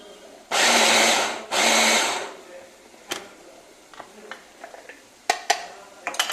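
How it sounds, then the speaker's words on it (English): A kitchen blender pulses through chopped capsicums in two loud bursts, each about a second long, followed by quieter clinks and knocks from handling the jar and utensils. "we're going to blend them further with our blender"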